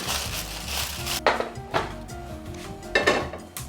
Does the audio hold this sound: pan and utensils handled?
yes